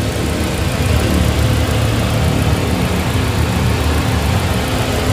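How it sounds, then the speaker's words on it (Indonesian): The engine of a 2016 Suzuki Ertiga GL manual MPV idles steadily with its hood open, a continuous close-up hum and rumble that holds even for several seconds with no talking. "Ini mesin nyala ya."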